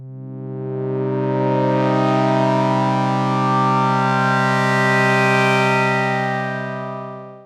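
Wavetable synthesizer patch on Porphyra, a sawtooth-based tone with a morphed harmonic series, sustaining as one loud, steady, bright chord-like drone for about seven seconds before fading out, with no voices.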